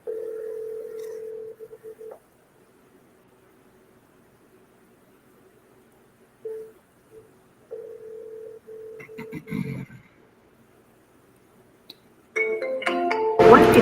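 Phone dialing tones in a cold-call dial session: steady sustained tones at the start and again around the middle, broken by silent gaps, then a burst of brighter layered tones near the end, with faint voice-like sounds mixed in.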